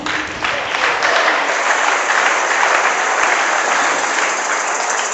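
A church congregation claps during an anniversary sermon, producing dense, continuous applause that fills the room evenly and loudly from start to finish.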